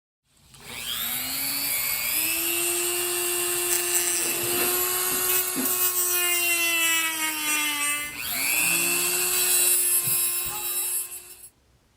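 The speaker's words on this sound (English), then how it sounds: "I pull out my Dremel and I start to trim them to shape" A Dremel rotary tool whines at high pitch as it trims junk parts to shape for a kitbashed robot, running close and loud in two long passes with a brief dip in speed between them.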